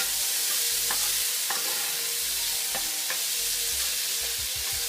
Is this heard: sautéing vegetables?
yes